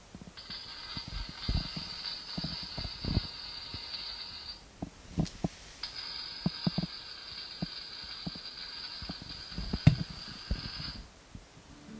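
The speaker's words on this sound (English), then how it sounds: "I have a great welding animation with synchronized lighting and sound that looks and sounds incredibly" Welding sound effect from a model railroad sound module: two long stretches of buzzing arc hiss separated by a short pause, with scattered crackling pops and clicks throughout, fairly quiet and with no voices.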